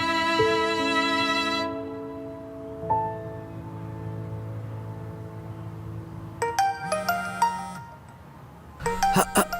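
A melodic landline phone ringtone plays from the start, then chiming tones sound in short bursts later, with background voices and music underneath.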